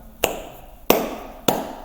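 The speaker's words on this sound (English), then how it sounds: "Clap, clap, clap, clap." Three sharp, distinct claps ring out at an even pace, each a crisp single slap with a brief decay, with nothing else around them.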